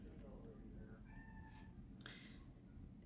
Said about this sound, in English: My cat's whining outside the door